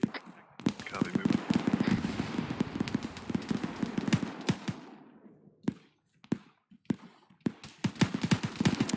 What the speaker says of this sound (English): those explosions are Warlord engaging